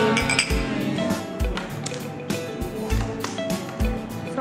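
Glasses clink together in a toast at a meal during a graduation trip in Okinawa, with several bright, quick taps over a busy restaurant background and faint voices.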